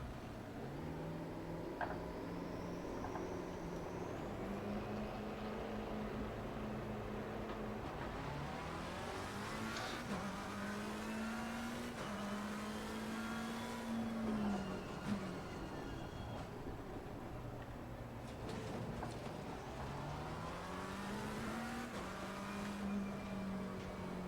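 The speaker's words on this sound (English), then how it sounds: "we're just going to jump in the car and drive" Race car engine in a sim racing game rising and falling through gear changes and corners, a steady run of revving tones repeating over the lap, moderately loud with no talking.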